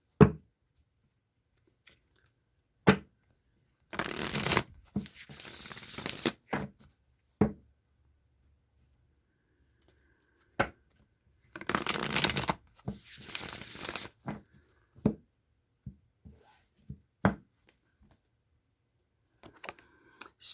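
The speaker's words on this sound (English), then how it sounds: "Riley Strain, I'm going to shuffle these 3 more times now." A deck of tarot cards is shuffled in two long riffling bursts, with scattered sharp taps and card slaps in between, close and clear against near silence.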